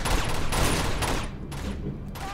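Rapid burst of gunfire from Uncharted 2, loud and dense over about two seconds, easing slightly toward the end.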